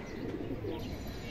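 Indian Kaldom highflyer pigeons at a seller's loft give a soft, low cooing murmur, brief and fairly faint against a steady background hiss.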